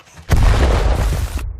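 Rifle gunfire in a 2020 action film: one loud, heavy blast that booms for about a second and then cuts off sharply.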